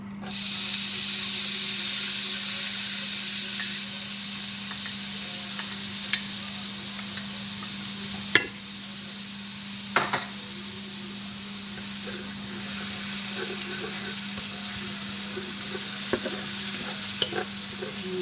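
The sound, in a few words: onion frying in a tawa for meat fry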